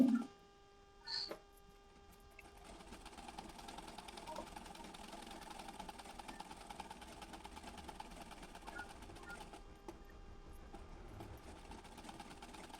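Sewing machine stitching a 32-size Bombay-cut blouse, running as a steady, even mechanical whir for several seconds after a couple of brief clicks at the start, fairly quiet and close.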